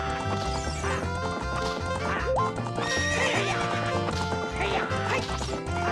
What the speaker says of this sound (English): What's up with that horse? Is that Epona? How did you tame that wild horse right under my nose